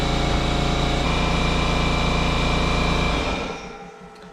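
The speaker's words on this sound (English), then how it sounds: "My air compressor is a little on the small side, so you got to wait for it to catch up sometimes, and it is noisy." A small air compressor runs loudly and steadily with a constant motor hum, then winds down and fades toward the end.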